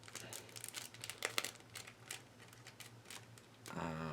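Small knife cutting through tape and a sticker on a package: a run of light crinkly scraping and ticking cuts, close and soft, ending in a brief rustle.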